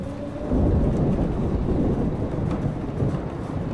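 A thunderstorm from Life is Strange, Episode 5 Polarized: heavy, steady rain roars with low thunder rumbling beneath it, loud and close, holding unbroken for several seconds with no voices.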